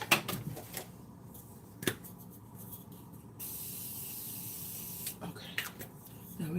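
A burst of fine makeup setting spray hisses over powder for a couple of seconds between a few soft clicks and handling noises, fairly close.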